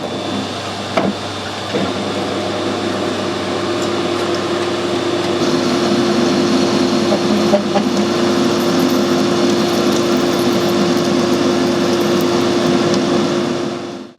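A lathe steadily turning down a BSP-thread airline adapter, a continuous motor whine and hum with a few light clicks near the start, holding constant until it cuts off abruptly at the end.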